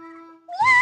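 A child mimics a cat's meow in one short rising-then-falling cry, following a faint steady tone, loud and close with no other talk.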